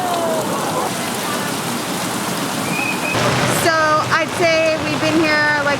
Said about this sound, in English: the sky just opened up on us, and it is pouring rain out here